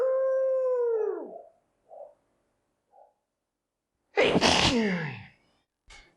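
A dog lets out a long, loud howl-like whine, a few faint soft noises follow, and then it gives one sharp, close, forceful sneeze, trailed by a brief snort.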